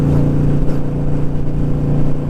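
Motorcycles pass on the road in a steady, loud engine roar with a low throbbing drone, heard close up from a Harley-Davidson Sportster cafe racer riding alongside.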